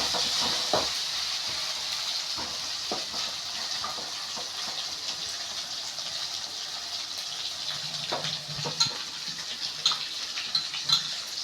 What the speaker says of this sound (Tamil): தக்காளி போட்டுட்டு நல்லா வதக்கிக்கலாம்.